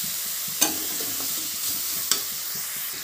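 Mushrooms stir-fried in masala gravy in a pan for a Tamil-style mushroom dish, with a steady close sizzle and two sharp scraping stirs of a spoon against the pan.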